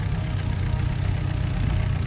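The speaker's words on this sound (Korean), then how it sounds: "소형 트럭 한 대가 들어온다" A small truck with unusually large wheels idles steadily close by in a highland cabbage field, a low, even rumble with a faint knocking pulse.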